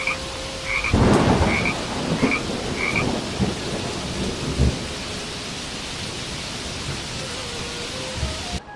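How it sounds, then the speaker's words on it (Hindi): Cartoon storm audio with steady heavy rainfall and a deep rumble of thunder that peaks early, while frog-like croaks sound repeatedly over the downpour. "तेज बारिश शुरू हो गई।"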